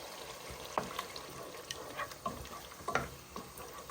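Prawns frying in a cooked-down spice paste in a pan for a prawn and bottle gourd curry, a soft low sizzle broken by a few sharp stirring scrapes and taps, close and quiet.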